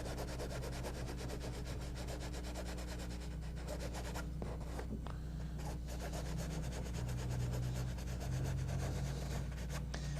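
Paintbrush scrubbing glaze onto a canvas while painting a Sedona canyon landscape, a steady close rubbing scratch that continues unbroken and evenly loud for the whole stretch over a low background hum.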